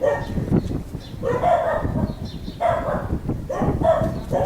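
A street dog barks in repeated short bursts at close range, with brief gaps between volleys and faint background noise.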